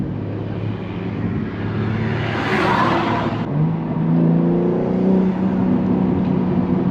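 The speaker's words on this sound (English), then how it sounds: "taking curves at 40 miles an hour and making intake noises every 5 seconds" A 700 hp Genesis G80 accelerates with a loud engine drone and whooshing intake noise, the pitch climbing and then stepping down as it shifts, heard steadily from inside the car.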